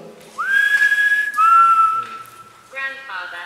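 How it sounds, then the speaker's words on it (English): A person whistles clear sustained tones, one long note then a second lower held note, followed by short warbling notes, with faint background noise inside a tarmac factory. "Can you whistle?"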